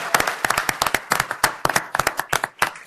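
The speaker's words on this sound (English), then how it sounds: "A round of applause." Scattered applause in a county commissioners' courtroom, a modest group clapping with distinct, sharp individual claps in a loose, uneven rhythm, close and fairly loud, for just under three seconds.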